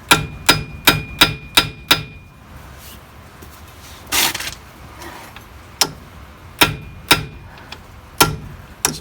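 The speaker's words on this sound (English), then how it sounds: "Just trying to hammer down those wavy washers." Sharp metallic hammer strikes on wavy washers during a 1958 VW bus transaxle removal ring out in quick bursts, a rapid series of about seven, a pause, then more scattered blows, close and loud.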